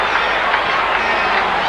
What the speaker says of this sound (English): there's warm applause